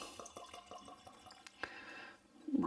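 Redbreast 12 Year Old Irish whiskey poured from the bottle into a glass, a quiet liquid trickle with a few soft drips and clinks, close and faint, with no talking.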